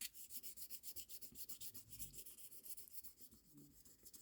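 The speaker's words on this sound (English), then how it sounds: "from the original towards the Milliput, you just want to lightly sand" Light, rhythmic sanding strokes on Milliput epoxy putty over a repaired ceramic piece, a quiet steady back-and-forth rasp with no talking.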